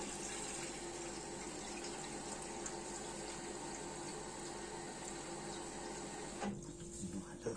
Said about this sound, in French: On va y mettre de l'eau.